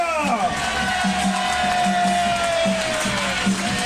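Wrestling crowd cheering after a Kamikaze Pro match, a steady roar of voices with a rhythmic chant pulsing through it, and a commentator speaking over the noise.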